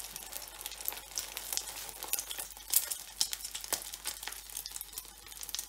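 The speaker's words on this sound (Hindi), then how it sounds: "मैंने तेल ऊपर रख लिया टिकिया को फ्राई करने के लिए।" Egg-coated chicken shami tikki patties frying in hot oil, a crackling sizzle broken by repeated sharper spatters and bursts that rise and fall irregularly, close and fairly loud, with no one speaking.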